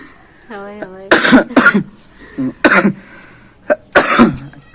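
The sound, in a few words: coughing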